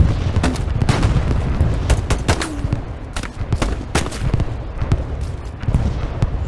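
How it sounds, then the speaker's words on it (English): Heavy anti-tank gun fire and explosions in the Stalingrad battle of the WWII game Hell Let Loose, a dense run of sharp booms and gunfire cracks going on throughout, one close blast striking a wall nearby. "there's an AT gun here! Fires and hit the wall right next to me."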